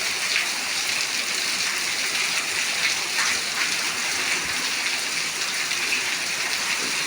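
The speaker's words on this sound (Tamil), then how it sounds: "பாருங்கள் மழையை திருப்பி காட்டுறேன் பாருங்கள்." Heavy rain falls steadily in a dense, unbroken hiss of drops hitting surfaces, loud and close for the whole stretch with no pauses and no voices.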